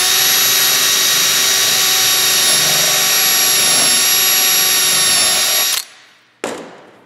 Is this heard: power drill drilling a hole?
yes